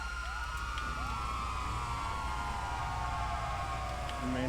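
Police car sirens in the FiveM mod of GTA V, several wailing tones overlapping and sweeping steadily over a constant engine drone, with a louder rise at the end.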